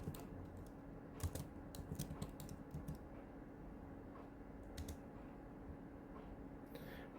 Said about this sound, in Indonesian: Jadi saya juga bisa mengetik nama saya.